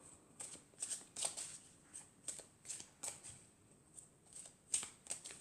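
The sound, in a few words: tarot oracle cards being shuffled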